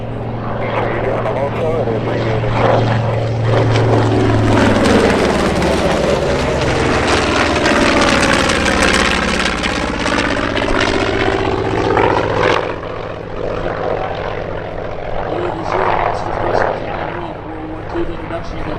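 A WWII propeller warbird, a Hellcat, makes its final dogfight pass at the Spirit of St. Louis Airshow. A loud piston-engine drone swells, passes close with a sweeping pitch change, then fades. An announcer talks over it.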